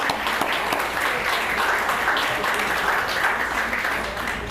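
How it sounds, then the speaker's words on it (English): Audience applause at an evening honor ceremony, a steady, full, close wash of many hands clapping continuously throughout, without speech over it. "And I'd like to applaud you for all that you have done for us."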